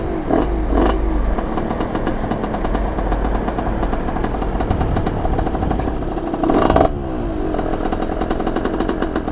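A 86 TPF moped engine held at a thread of throttle to keep from stalling runs loud and close with a buzzing, rattly two-stroke drone, briefly swelling in revs twice, with no talk.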